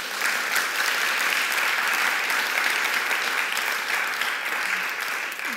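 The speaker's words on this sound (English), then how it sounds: "Could you encourage them and welcome them with a warm round of applause?" Audience applause at a panel debate on fashion, a steady dense wash of clapping from a full room that holds evenly throughout and tapers slightly at the end, with no voices over it.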